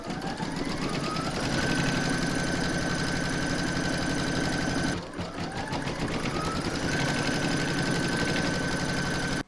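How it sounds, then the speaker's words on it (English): An embroidery machine stitches an in-the-hoop fabric photo frame with a loud, fast, evenly rhythmic mechanical whir that pauses briefly midway and then resumes. "You're now going to pop that into your machine and stitch round number two."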